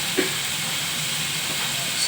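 Pork and fresh tomatoes stir fry in a pan for a pork tomato soup, a steady loud sizzling hiss that runs throughout with a faint clink near the start.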